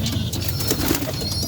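Pigeons at a backyard loft make soft, low cooing calls, close and fairly quiet, repeating over a short stretch with faint background noise and no voices.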